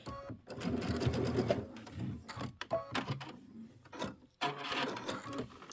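Sewing machine stitching binding onto a Kimberbell Cuties quilted table topper, running in rapid mechanical bursts with short pauses between runs, close and fairly quiet.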